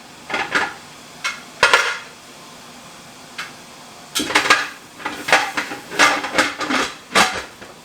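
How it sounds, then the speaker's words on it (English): A metal lid is set onto a canning pot for a water-bath batch of jarred roasted red peppers, giving several close, sharp clanks and clatters in uneven bursts with quiet gaps between them. "Alright, let's go ahead and put the lid on."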